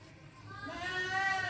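A Rajanpuri Gulabi goat bleating at a goat farm in Pakistan, one wavering, fairly faint call rising out of background noise while someone talks nearby.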